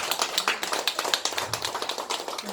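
A small group claps during a Buddhist dharma talk on a pilgrimage, quick scattered hand claps close by, brief and somewhat uneven, lasting a couple of seconds.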